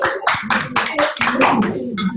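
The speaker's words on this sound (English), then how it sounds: "can we have a round of applause for" Students clap for a guest at an online cryptography expert session, a few sparse, distinct claps close to the microphone.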